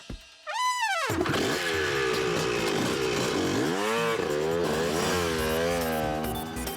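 Cartoon vehicle engine, a special model built for a chase, revs up with a rising whine after a brief silence, then roars continuously and loud with shifting pitch as it speeds along.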